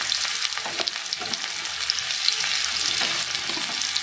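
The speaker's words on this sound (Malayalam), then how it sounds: "നമ്മളിതിലേക്ക് കുറച്ച് ചെറിയ ഉള്ളി ചേർത്ത് കൊടുക്കണം" Small shallots fry in hot coconut oil for a Kerala dried-prawn and raw-banana curry, making a steady, close, crackling sizzle with light stirring pops throughout and no voices.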